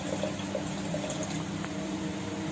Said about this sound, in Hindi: इसमें थोड़ा सा और पानी ऐड करके